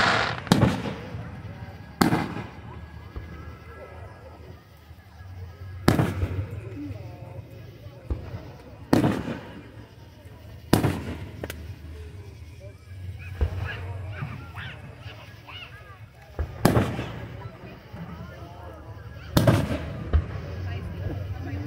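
Fireworks at an outdoor family show burst in a string of sharp booms spaced a few seconds apart, each fading into a rumbling echo, with crowd murmur and people talking between the explosions.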